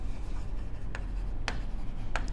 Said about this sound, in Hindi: तो इसको लिख लेते हैं